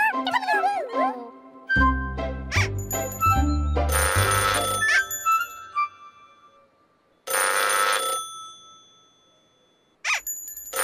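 A cartoon telephone rings in bright electronic bursts, several short ringing phrases separated by pauses, with playful musical tones and a voice at the start.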